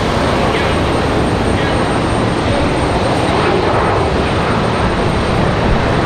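Endeavor jet operating as Delta 5108 from New York LaGuardia on final approach to Raleigh-Durham, a loud, continuous engine roar filling the air close by and holding steady throughout.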